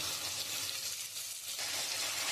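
Onion, ginger and garlic paste sizzles steadily in a hot pan, a loud, even frying hiss that runs throughout with faint stirring beneath it.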